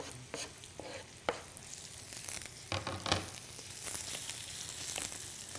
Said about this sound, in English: I'm going to take my onions and drop them in